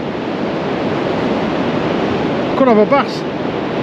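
Sea waves and white water surf on an East Coast shore at Tunstall, a steady dense rushing wash with some wind buffeting, while someone briefly speaks over it near the end.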